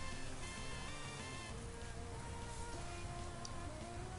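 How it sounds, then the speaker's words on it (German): Steady rain effect from the Pokemon Emerald video game during a battle, a constant hiss layered under looping game music with no speech. "Es regnet immer noch eine Runde."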